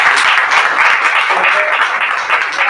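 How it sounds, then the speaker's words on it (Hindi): A meeting audience claps for a revered teacher, a dense, steady patter of many hands that holds at full strength throughout with no voices rising above it. "गुरु जी के लिए थोड़ी तालियां हो जाए।"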